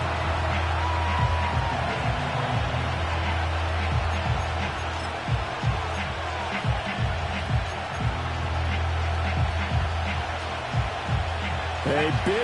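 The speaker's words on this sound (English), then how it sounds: "Crowd on their feet." Stadium crowd roar in a football video game, a steady broad wash of cheering spread across the whole stretch, sitting under a commentator's continuous play-by-play talk during a tense final-minute drive.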